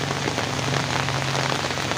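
Heavy rain pours steadily onto the surfaces of an office yard during the rainy season, a dense, continuous hiss of close drops with no talking.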